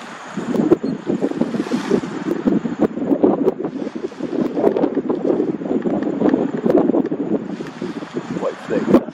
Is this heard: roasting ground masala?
no